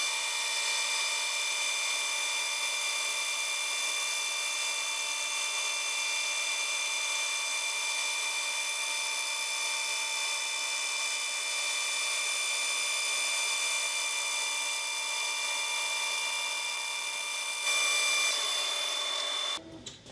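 Accu-Slice slicing machine cutting thin 25-thousandths-inch pieces, giving a steady, even high-pitched whine and hiss that runs unbroken and fairly loud before cutting off abruptly at the end.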